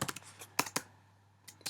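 A computer keyboard types a Zoom meeting name in a few quick clusters of crisp key clicks, close and quiet, with pauses between the bursts.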